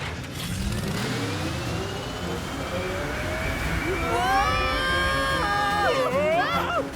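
A rising mechanical whir builds and swells into loud warbling, siren-like tones, a cartoonish giant fan roaring to life over a steady background rumble.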